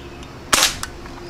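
Umarex NXG pump air rifle, charged with ten pumps, firing a single BB: one sharp, loud crack that stands alone and decays quickly into near silence.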